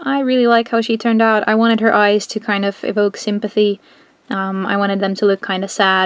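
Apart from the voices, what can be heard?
None of the usual background noises is heard.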